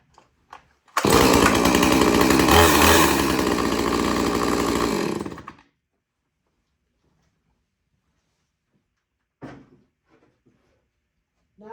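A Husqvarna 450 chainsaw with a 20-inch bar fires on one pull. It roars loud and close for about four seconds, then shuts off, and a few faint knocks follow.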